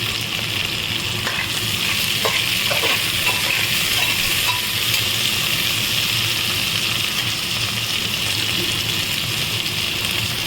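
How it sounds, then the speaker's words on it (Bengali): Chopped onions, four medium ones, sizzle and crackle steadily in hot oil in a pan while being fried until reddish for a homestyle chicken curry, with occasional stirring scrapes over a loud, continuous frying hiss. "পেঁয়াজ দিয়ে দিচ্ছি পেঁয়াজটা খুব ভালো করে ভাজবো লালচে করে"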